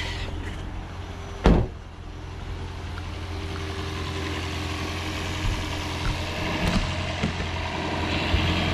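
Toyota Prius engine after a spark plug job, a brief loud thump of starting followed by a steady, low idling drone close by, with faint clicks over the hum.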